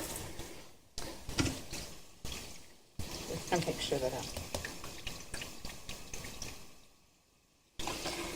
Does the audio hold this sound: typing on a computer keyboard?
no